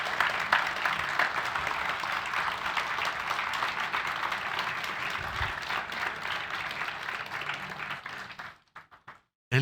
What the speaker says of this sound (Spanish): yo quisiera pedirles que le demos un aplauso al Señor